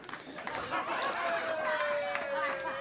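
Crowd noise at a Trans Tasman Challenge Cup 10-ball pool match, a steady wash of cheering and excited chatter from a nearby audience that swells and holds throughout, with a rising whistle-like tone running underneath.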